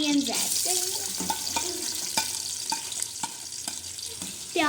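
Onions drop into hot oil with cinnamon sticks in a home pan, giving a steady faint sizzle broken by clinks and scrapes of stirring, with a brief running-water trickle and a speaking voice over it at times.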